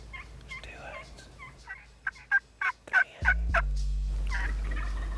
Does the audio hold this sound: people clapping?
no